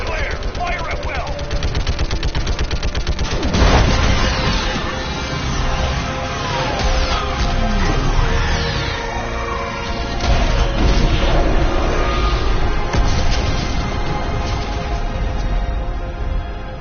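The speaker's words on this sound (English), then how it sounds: "I need an orbital strike. Clear. Fire at will." An orbital strike fires on a live Reaper in Mass Effect with heavy booms, crashing impacts and rattling gunfire, a dense barrage that stays loud throughout, with voices talking over it.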